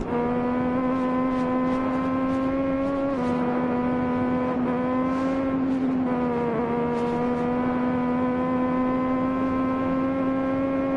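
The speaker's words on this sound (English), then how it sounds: "It's an interesting sound, this Triumph." A Triumph racing motorcycle at the Isle of Man TT, its engine a sustained, high-pitched droning whine that holds steady with slight dips and rises in pitch as it works through the course. No voices.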